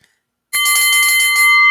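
A bell rings suddenly and sustains brightly, loud and close, an electronic doorbell-like chime holding steady to the end after a brief silence.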